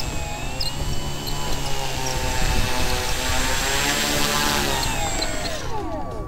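An electric RC J-3 Piper Cub EPO model plane with a 1400mm wingspan flies low, its propeller giving a steady, loud whine that shifts in pitch as it passes close by; no talk.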